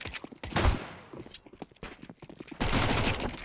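Pistol shots from Counter-Strike on the Vertigo map crack in quick uneven bursts, followed by a dense, noisy stretch of action sounds.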